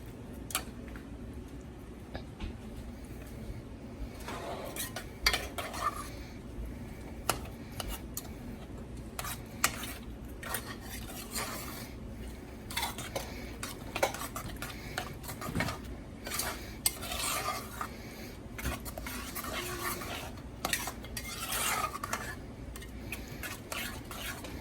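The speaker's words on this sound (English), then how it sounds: "And I'll stir it up and see what it looks like." A spoon stirs a thick mustard and brown sugar mixture in a bowl, giving a steady run of close scraping and clinking taps against the sides, with faint kitchen background and no talking.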